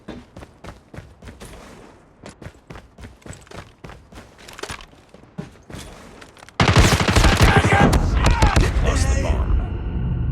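Rapid video-game gunfire, including shots from a 3-line rifle: a string of sharp separate shots builds up, then turns into a dense, loud, continuous barrage. Voices can be heard under the shooting.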